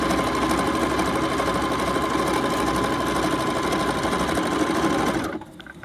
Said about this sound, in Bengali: তো এখানে এক সাইডটা সেলাই করে নেব